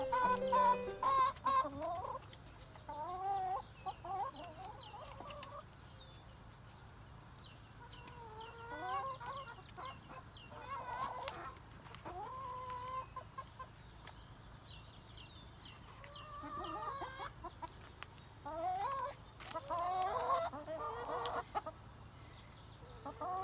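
Silkie chickens cluck again and again at a farm while waiting to be fed grain, with soft, busy chatter that rises and falls across the whole stretch and a steady low background hum.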